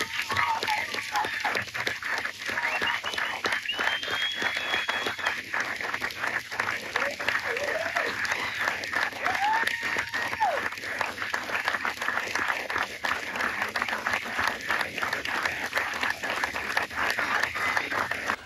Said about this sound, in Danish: derfor vil jeg gerne sige tusind tak for det store bifald